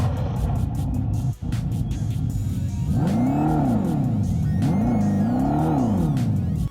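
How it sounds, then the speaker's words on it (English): Dodge Charger Daytona V8 revving hard through its Fratsonic chambered exhaust on an auto show floor, a loud continuous engine drone that climbs and falls in two distinct rev sweeps over a constant background roar. "You hit the pedal and you have the Fratsonic chambered exhaust."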